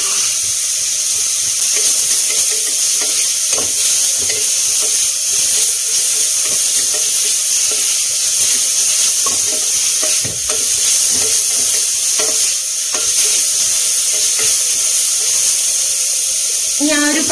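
Crushed ginger and garlic fry in a hot pan with a continuous loud sizzle, punctuated by intermittent scraping stirs of a spoon, close up throughout.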